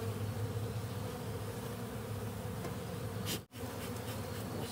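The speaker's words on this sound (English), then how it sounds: "Got lots of bees up top here." Honey bees buzz steadily in a dense, close swarm around the top of a hive on a mild, partly sunny day, a continuous droning hum with a brief dip near the end.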